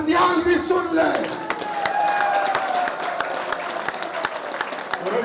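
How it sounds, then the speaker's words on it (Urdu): A crowd at a PMLN political youth convention claps and cheers steadily for several seconds, with whoops and shouting voices over dense, sustained applause. "تالی ایسی بجاؤ کہ عمر عطا بندیال بھی سن لے"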